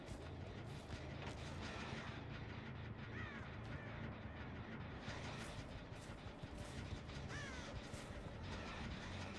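Crow cawing in the horror video game Dead by Daylight, several harsh caws repeating at intervals over a dense, rumbling in-game ambience.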